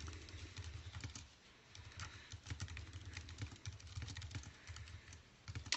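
Computer keyboard typing while entering a written description of a used book for an online listing, a steady run of quick soft key clicks with brief pauses, close and fairly quiet, with no one talking.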